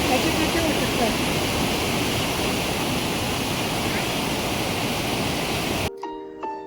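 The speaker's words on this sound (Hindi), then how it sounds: "तो इसके शोर से आपको पता चल पा रहा होगा कि कितना तेज पानी का बहाव है इस जगह पर।" Fast-flowing mountain river at Munsyari roars as a dense, steady rush of water that fills the scene loudly and evenly, then cuts off abruptly near the end, leaving a quieter stretch with faint tonal sounds.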